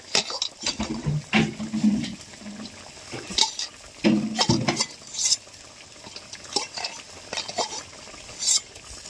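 Lentil dumplings (bori) go into a pan of cooking tilapia curry with potato and eggplant, heard as a series of close clinks, scrapes and stirring knocks in uneven bursts, separated by quieter gaps.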